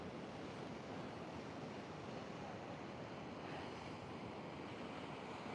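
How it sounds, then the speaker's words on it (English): A calm sea at high tide, heard from a coastal walk: a steady, continuous wash of surf mixed with wind noise on the microphone, even in loudness throughout, with no talk. "Nice calm sea, tide's in."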